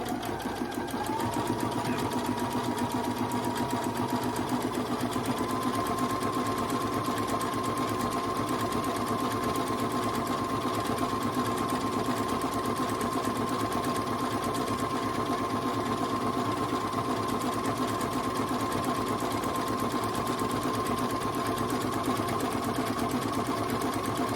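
A sewing machine stitches a pillowcase with a continuous fast mechanical whirr and rapid needle clatter, steady and close for the whole stretch.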